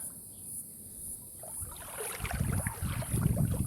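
Splashing water in a swimming pool starts after a quiet moment, rising into steady sloshing and lapping, close by, with a faint high whine over the top.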